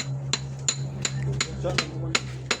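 Hammer blows striking repeatedly in a fairly steady rhythm, about eight sharp metallic knocks over a low constant hum, with faint voices in the background.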